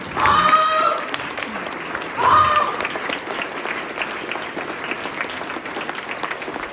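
Keynote audience at a human care symposium breaks into applause, a broad crowd clapping that swells twice with brief cheers and then settles into a steady, fainter patter.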